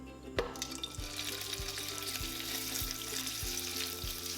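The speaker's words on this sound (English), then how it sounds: "cook on high heat until they are lightly brown for about 5 minutes" Ground pork frying in a wok on high heat for mapo tofu, a loud steady close sizzle with regular stirring scrapes and knocks roughly every half second, no talking.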